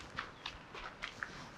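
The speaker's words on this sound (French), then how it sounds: "ça fait du bien de marcher" Footsteps of someone walking outdoors, a handful of soft, irregular steps heard fairly close and faint against a quiet background, with no talking.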